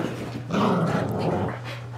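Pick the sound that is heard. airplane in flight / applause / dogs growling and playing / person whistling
dogs growling and playing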